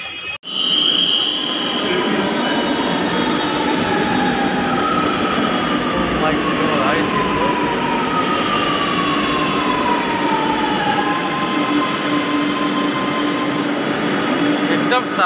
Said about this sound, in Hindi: तो अभी मेट्रो ट्रेन आएगी